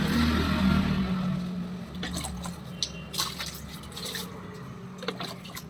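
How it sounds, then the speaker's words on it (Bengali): Water is poured across a balcony floor during cleaning, a steady wet wash and splash that eases into scattered drips and trickles, close by with no voices. "এই বেলকনিতে একটু জল ঢেলে দিচ্ছি"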